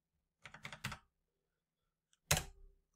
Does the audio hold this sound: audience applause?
no